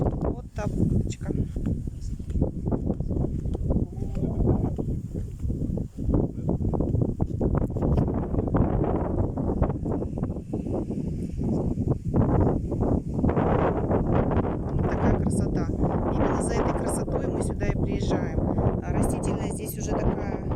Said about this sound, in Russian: здесь сильные ветра, и вот сейчас видим, что ветер